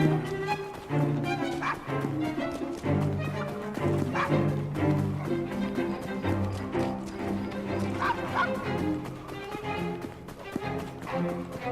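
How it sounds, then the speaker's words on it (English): A dog in the video game Assassin's Creed Syndicate gives repeated yipping barks and whimpers at close range over busy background game sound, with a voice speaking at times. "Nice doggy."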